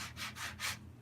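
Wood of a tree stump stool is rubbed smooth by hand in three quick, close, scratchy strokes of even rhythm.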